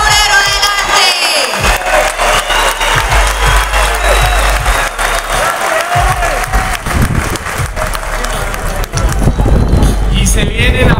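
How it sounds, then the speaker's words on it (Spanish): Loud crowd applause and cheering outdoors as a football coaching staff member is introduced, sustained dense clapping with wind buffeting the microphone and a few voices rising through the noise. "necesito que todos lo reciban con un fuerte aplauso"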